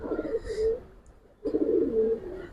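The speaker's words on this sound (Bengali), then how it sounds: "আর এইদিকে পাগলার ডাক দেখেন" A Pagla pigeon, a Giribaz-type bird, gives two close, clear cooing calls, each a low throaty burble separated by a brief pause.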